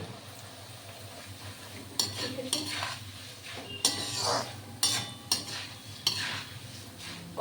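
Flattened rice being stir-fried in oil in a pan: a low background sizzle broken by several loud, irregular scraping and clattering bursts of the spatula against the metal.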